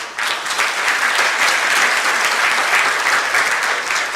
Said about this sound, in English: I want to give Mr. Yang Xianghua from IT a round of applause